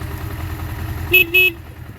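Two short beeps from the horn of a 1978 Suzuki GS750 E motorcycle, close and loud, the second slightly longer, sounding over a low idling engine rumble.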